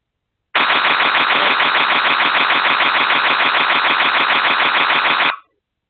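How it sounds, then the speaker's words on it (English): A Ring security camera's built-in alarm sounds a loud, continuous electronic siren that pulses rapidly and steadily for about five seconds, then cuts off abruptly. "did you know those Ring cameras had alarms built into them?"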